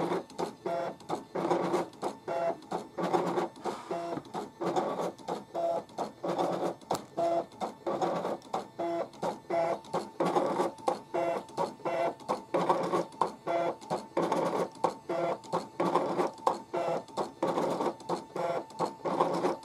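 A DesignNCut DC200 cutting machine runs a line-emboss job, giving off a steady, close mechanical whir broken by rapid rhythmic clicks and short motor pulses as the head moves back and forth.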